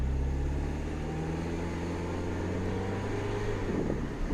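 A 2007 Mini Cooper S R56 driving, its engine droning steadily with a low hum and whine throughout, constant and fairly loud, no talk.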